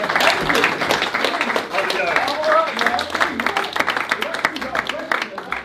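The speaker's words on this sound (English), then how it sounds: "We give Mr. Joseph Valente a big round of applause." An audience gives a round of applause for speaker Mr. Joseph Valente, sharp clapping heard under and between loud overlapping voices and cheering, fairly close and continuous throughout.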